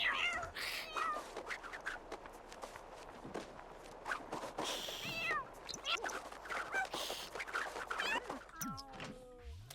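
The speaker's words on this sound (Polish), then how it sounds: "Dlaczego pierwszy raz zdarzyło mi się, żeby koty się gryzły?" Cats fighting in The Sims 4 game, with repeated meows, yowls and caterwauling over a dense bed of in-game footsteps and clatter, busy throughout and ending in a rising wail.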